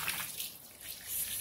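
Water splashes and rushes steadily into a laundry washtub holding a thick, heavy blanket, a close, continuous hissing pour with no talking.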